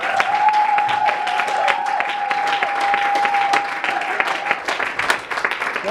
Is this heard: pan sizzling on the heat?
no